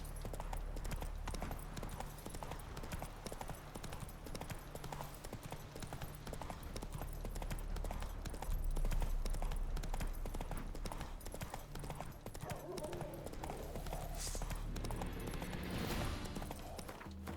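Steady clip-clop of the horse Roach's hooves trotting along a road in a video game, continuous and fairly quiet beneath soft game ambience, with no talking.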